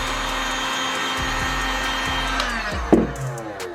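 A heat gun blows a steady, airy whoosh with a motor hum while warming vinyl wrap on a car door handle, close and constant, then a few handling knocks near the end.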